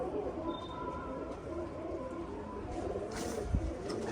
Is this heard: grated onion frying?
no